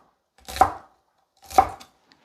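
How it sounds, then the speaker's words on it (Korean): A knife chops an onion into fairly chunky cubes on a board for a chicken breast stew, two separate firm chops about a second apart, close and clear with quiet between. "이렇게 썰게요."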